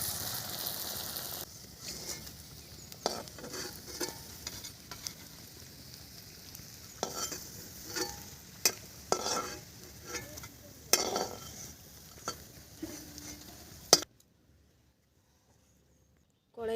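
Banana flower kofta frying in oil in a pan over low heat, a steady soft sizzle broken by stirring clatters and scrapes, close by, ending abruptly in silence.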